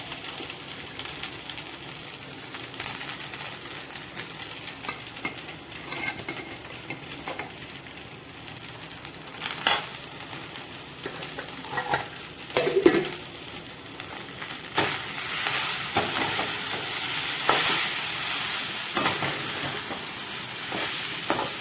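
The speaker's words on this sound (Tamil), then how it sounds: "இது பெரட்டி கொஞ்சம் அடியில் சுரண்டாமல் பெரட்டுறேன்" A spoon scrapes and stirs rice in a hot pan, with steady sizzling and hissing that grows louder toward the end; no talking.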